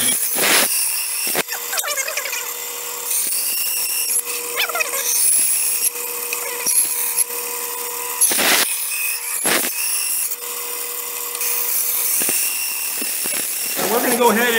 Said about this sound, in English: we're going to cut this out just on my skill bandsaw